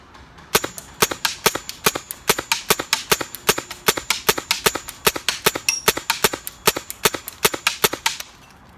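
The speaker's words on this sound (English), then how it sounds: "when the officer is ready to fire, he can deploy those rounds center mass at the target" Rifle rounds fire rapidly at a target on a range, a long string of loud, sharp, evenly spaced cracks running close by through a full magazine, with no talking.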